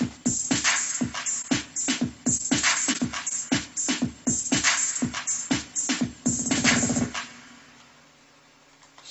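Retro Core drum samples combine into a dense groove of punchy hits, bass drums, snares and crisp hi-hats in quick rhythmic succession, loud and close, ending in a fading tail.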